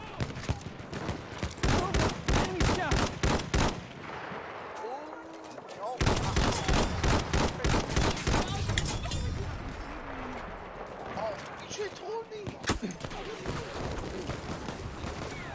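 Rapid bursts of gunfire from the video game Battlefield 1, dense rattling volleys in two long stretches with scattered single shots between, loud and close, with some voices faintly underneath.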